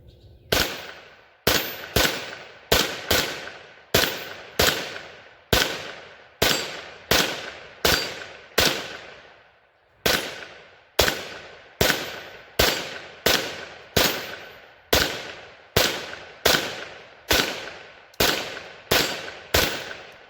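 A Kel-Tec CP33 pistol firing CCI Stinger rounds: two fast strings of sharp, loud, close gunshots, about a dozen each, separated by a brief pause, with no talking.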